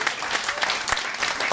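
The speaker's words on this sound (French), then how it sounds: "on l'applaudit bien fort" An audience gives dense, steady applause at a Paris tribute concert. The clapping is loud and continuous throughout, with no voices standing out.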